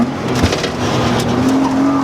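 A BMW E36 M3 drifts around a corner, engine roaring loud and close while the tires squeal in a sustained, rising screech for about two seconds.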